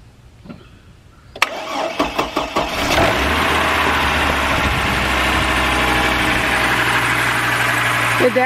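A car engine cranks after a power-bank jump starter is hooked up: a sharp click, a few rhythmic cranking pulses, then it catches and settles into a steady, loud idle that continues to the end.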